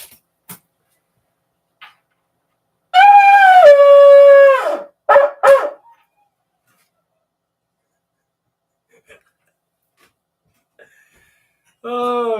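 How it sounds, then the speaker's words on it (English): Dogs howl back from a distance outdoors at night, a drawn-out wavering howl followed by a couple of short yelps, then another howl starts near the end after a long quiet stretch. "They barked back."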